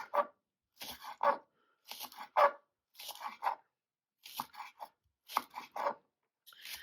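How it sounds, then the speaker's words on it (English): A knife chops scallion into small pieces on a cutting board in quick bursts of crisp, rhythmic taps separated by short pauses, close and clear with no talking. "So I'm going to cut my scallion into really nice small pieces."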